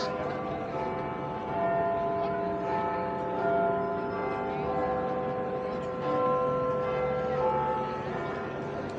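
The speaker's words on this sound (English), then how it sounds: "the bell is Big Ben" Big Ben, the great clock bell in London, rings with sustained, steady ringing tones that carry over a constant murmur of outdoor city ambience for the whole stretch.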